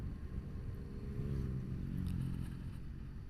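Motorcycles pass on a quiet road during a solo touring trip on the Isle of Man, heard as a steady, moderately loud engine rumble with a slight swell midway, mixed with wind noise.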